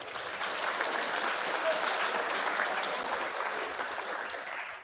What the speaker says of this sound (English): Another round of applause, please, for Kaylee.